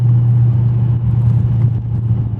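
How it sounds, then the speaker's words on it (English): Dodge Charger Hellcat engine given a quick blip of gas, a steady low rumbling idle swelling slightly, close and loud with no talking. "I'm just gonna give it some quick gas"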